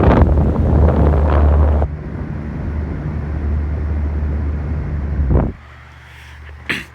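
A Galaxy 12-1 desk fan blows a steady, close airflow rush with low rumble, loud for the first two seconds and then softer; a brief swell near the end precedes a quieter hum with a short blip.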